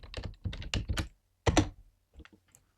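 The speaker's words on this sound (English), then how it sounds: "I'm pressing the letters A, B, and C, and it's not working." Letter keys on a computer keyboard are pressed in a quick run of crisp clicks, then a pause, another firm press and a few softer taps, sounding close and distinct with no talking.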